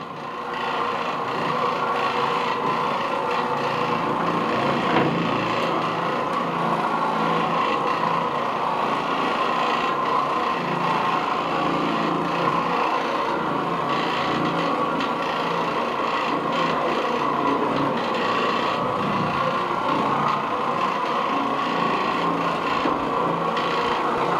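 An Oreck Orbiter bonnet carpet cleaning machine runs steadily in a bedroom, scrubbing a damp bonnet over pre-sprayed carpet with a constant rough whirring rasp that stays loud and unbroken throughout.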